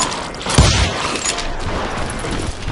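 Gunshots in the Wild West video game Call of Juarez Gunslinger. One sharp, loud report stands out early over a noisy, rumbling backdrop of action.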